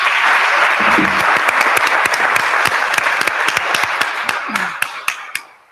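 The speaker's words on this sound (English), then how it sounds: "please give him a round of applause" Round of applause for an administrative dean at a school district board meeting: many people clapping steadily, with individual sharp claps standing out as the sound gradually tapers off.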